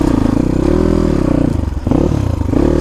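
An off-road motorcycle engine revs hard and steadily while the bike is stuck on rough terrain, loud and close, with a brief dip in the engine note near the end.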